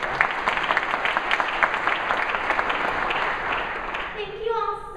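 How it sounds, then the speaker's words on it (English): Families at a University of South Florida orientation applaud with dense, sustained clapping from a large audience, even and full for several seconds, then fading out as a voice resumes. "give yourselves a round of applause"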